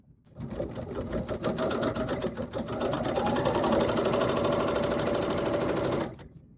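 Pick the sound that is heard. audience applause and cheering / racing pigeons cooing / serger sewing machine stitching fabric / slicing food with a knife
serger sewing machine stitching fabric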